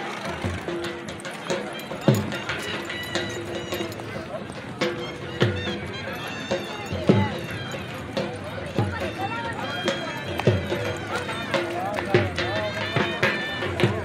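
A horse gallops at a neza bazi tent-pegging event in Pakistan, hooves pounding in a steady rhythm under a noisy crowd while an announcer talks over a loudspeaker throughout.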